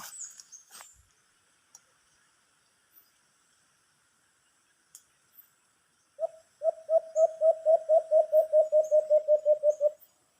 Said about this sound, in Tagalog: So, humuhuni na si Boy Kulot, no